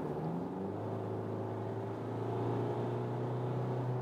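Inside a 2016 Jeep Cherokee Limited on the motorway, the engine and road noise hum steadily and quietly, swelling slightly as the car pulls from 80 to 100.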